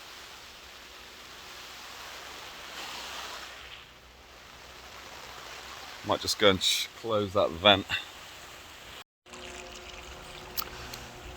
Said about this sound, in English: This is replicating quite a heavy rainfall actually.